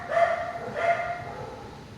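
A dog indoors lets out two short, muffled barks or yips in quick succession, fairly faint in the background, then quiet.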